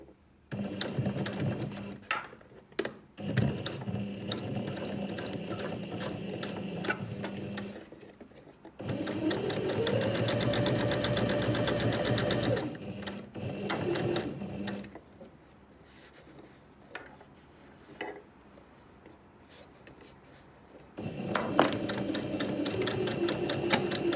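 A domestic sewing machine stitches fabric for a zipped make-up pouch, running in steady whirring bursts of several seconds separated by quiet pauses.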